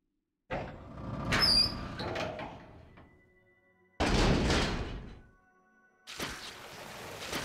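A door opens in Resident Evil Zero: three separate loud bursts of creaking, scraping and thudding, divided by short quiet gaps, with no talking.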